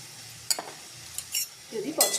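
Ginger paste being stir-fried in a pan, with a few brief metal clinks and scrapes of a spatula over a faint background sizzle.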